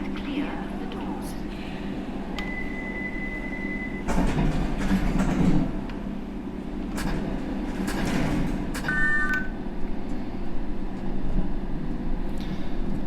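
Train doors closing on a London Underground Circle line train in the World of Subways video game, with a door chime, a hissing slide and a thud over a steady cab rumble, while someone talks throughout.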